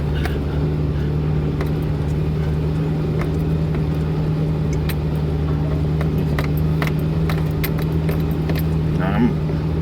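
A Jeep engine labours steadily uphill in low first gear on a steep dirt trail, a constant close drone with faint rattles and clanks over it for the whole stretch.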